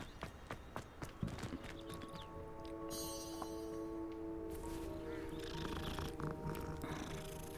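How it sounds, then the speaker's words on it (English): A cat purring while being petted in the video game Hogwarts Legacy, a low rumbling purr with soft footsteps and game effects around it. "I had to stop and pet the cat."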